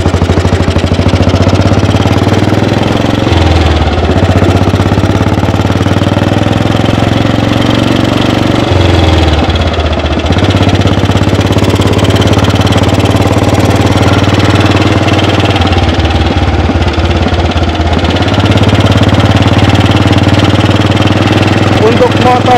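A 1948 AJS 500 custom British motorcycle engine runs steadily throughout while being ridden, a loud, close, continuous thumping drone that shifts with throttle changes, with a rider's voice talking over it at times.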